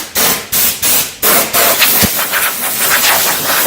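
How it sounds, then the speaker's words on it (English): Strong wind gusts roar through the inside of a Nissan S13 during a storm, heard close and loud as repeated whooshing blasts that fade into a steady windy hiss, with no talking. "I'll show you again with the airflow in here now"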